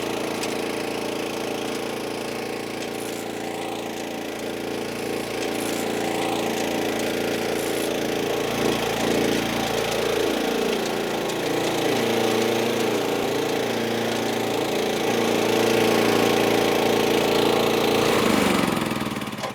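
A garden tiller engine runs steadily at a loud, constant idle-like drone throughout, with a slight rise in intensity toward the end and no talk.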